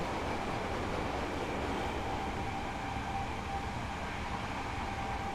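A freight train rolls steadily along in Train Simulator Classic, a continuous, even rumble of wheels and cars with broad hiss, holding at moderate loudness throughout with no voices.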